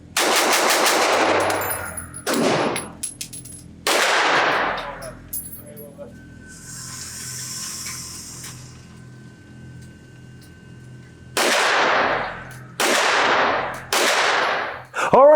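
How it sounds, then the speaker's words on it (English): A Zev Technologies OZ9C compact 9mm pistol fired rapidly at a range, in several loud, close bursts of quick shots separated by pauses, with a faint ringing tone and low background noise between strings. "how fast can I shoot the gun?"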